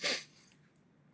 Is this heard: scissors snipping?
no